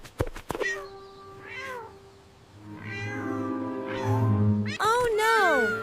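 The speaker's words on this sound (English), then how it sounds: "A poor little orange cat is stuck high up in the big oak tree and cannot get down." A little orange cartoon cat stuck high in a big oak tree gives several drawn-out, rising and falling meows, clear and close, with a voice speaking between them in an animated garden scene.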